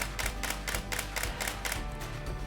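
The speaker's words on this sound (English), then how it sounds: "If you have it in a burst mode like you would for action photography, you're gonna hear something kind of like this." A camera shutter firing in burst mode for action photography, a rapid, evenly spaced train of about ten sharp mechanical clicks, close and crisp with no talking.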